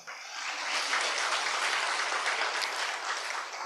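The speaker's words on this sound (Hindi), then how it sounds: "ताली बजाने वाली बात है" Steady audience applause fills the room at an even, moderately loud level for several seconds, a broad wash of many hands clapping together without a break.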